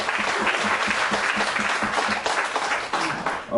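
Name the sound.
congregation applauding in church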